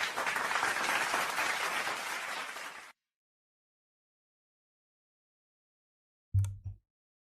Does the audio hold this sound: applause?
yes